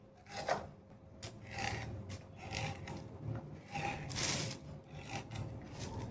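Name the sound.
cutting dried coconut into thin slices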